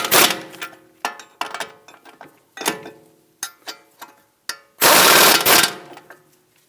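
Strut to knuckle bolts on a Volvo S60 are snugged down with a ratchet in a series of short, close clicking bursts and pauses, ending in one longer loud buzzing run, with no talk.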